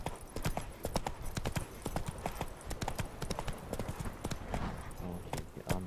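Roach, the horse in The Witcher 3, gallops with rapid, steady clip-clop hoofbeats throughout, close and loud over an outdoor game ambience, with no speech.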